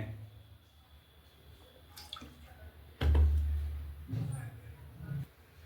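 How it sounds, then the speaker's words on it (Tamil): Groundnut oil poured into a cooking pan, giving a short close trickle with dripping and a soft low splash about halfway through, followed by quieter liquid sounds. "தேவையான அளவு கடலெண்ணெய் கொஞ்சம் ஊற்றுறோங்க"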